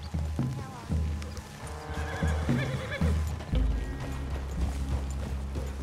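A horse whinnies loudly over rhythmic clip-clopping hooves, with more snorts and hoofbeats from a Red Dead Redemption 2 scene.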